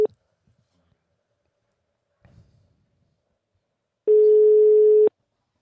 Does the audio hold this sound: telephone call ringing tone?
yes